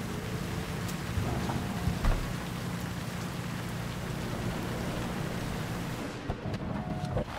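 Steady rain in the video game Cyberpunk 2077: Phantom Liberty pours down with a low rumbling undertone, a continuous wash of patter with occasional louder spatters.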